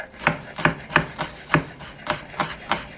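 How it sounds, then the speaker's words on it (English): A kitchen knife chops ingredients for a collard green dip on a cutting board in about eight crisp, evenly spaced strokes, close and alone with no talking. "Cut it up how you like it."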